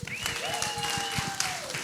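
An audience at DCENTRAL Austin 2022, a blockchain and music NFT conference, applauds a panelist being introduced. The clapping is steady and fairly close, with a bright whistle rising and falling over it for most of the stretch.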